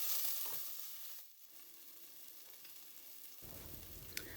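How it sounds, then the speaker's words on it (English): Onions and peppers cook in harissa oil in a pan, giving off a quiet, even sizzle with no talking. "We're gonna cook the onions and peppers in the harissa oil for about a minute or so"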